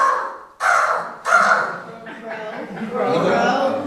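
A human voice imitates a crow's mating call with three harsh, loud cawing bursts, then a rougher, chattering croak that trails off, heard close up with no other sounds.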